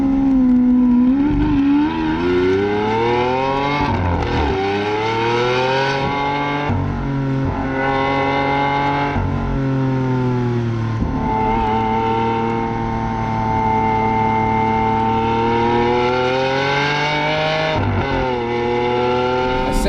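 A Lamborghini Aventador engine revs continuously and loudly without any aftermarket exhaust, its steady roar swelling and dipping through repeated throttle rises, heard close from inside the car with no talk over it.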